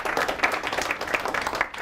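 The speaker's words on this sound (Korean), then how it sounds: "자, 박수 한번 칩니다" A small group of middle school science students in a classroom claps together, quick uneven hand claps rattling at close range for a couple of seconds.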